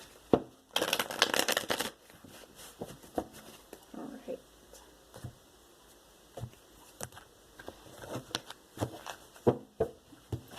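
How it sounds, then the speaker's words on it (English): Tarot cards being shuffled in a few bursts, a loud riffling flurry at the start followed by softer, scattered card slaps and shuffles nearby. "I already did some pre-shuffling, but I'm going to do a couple more here"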